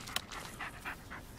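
A dog panting in the Blair Witch video game, with quick, breathy puffs repeating at an even rhythm, close and moderately loud with no talk over it.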